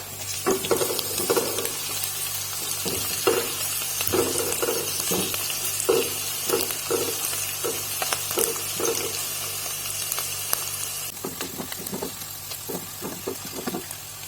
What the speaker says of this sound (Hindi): प्याज हल्की हल्की हो गई है तो अब मैं इसमें लहसुन और अदरक छोटा छोटा काटा हुआ है वो डाल रही हूँ